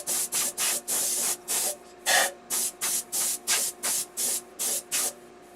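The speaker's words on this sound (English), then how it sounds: "I like to use a little air gun" A small air gun blows abrasive off a sandcarving piece in about a dozen short, loud hissing bursts, evenly spaced and close, each starting and stopping abruptly, with no voices.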